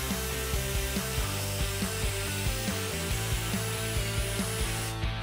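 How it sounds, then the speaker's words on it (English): A drill bit bores out a hole for a Quik-Latch hood pin on a Ford Mustang, grinding steadily up close with a rapid, regular ratcheting rhythm that stops abruptly at the end. "Just want to grab a drill bit and basically drill this out."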